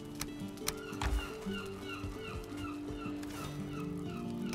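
A seagull in the video game Valheim gives repeated short calls at a steady rhythm over game ambience and background music, with a few thuds and clatters.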